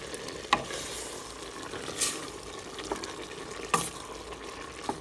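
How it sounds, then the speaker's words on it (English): A pot of lobster bisque with brandy being stirred, a soft bubbling simmer punctuated by a few distinct scrapes and knocks of the spoon against the pot. "Give it another little stir."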